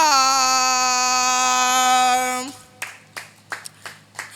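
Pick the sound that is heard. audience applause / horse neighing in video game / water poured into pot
audience applause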